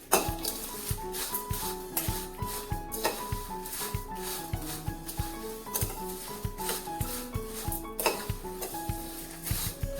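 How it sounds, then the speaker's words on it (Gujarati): A spoon scrapes and clinks repeatedly against a metal pan as sweet potato chevdo is tossed with raisins, fried peanuts and cashews, a Kutch-style snack, in an irregular stirring rhythm close up. "હવે બધું આપણે મિક્સ કરી લઈએ."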